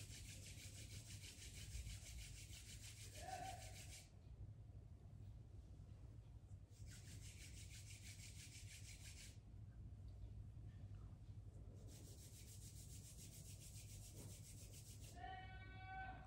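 Two palms rubbed together during a home yoga routine, heard as three long, soft, steady swishing bursts of several seconds each, close up, separated by quiet pauses over a faint low hum.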